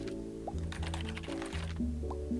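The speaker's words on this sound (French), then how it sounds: "il suffit de tapoter les touches et on se sent comme un hacker de film" Computer keyboard keys are tapped rapidly while playing Little Office Troubles, a Ludum Dare 31 game, as a quick clattering burst over steady game music.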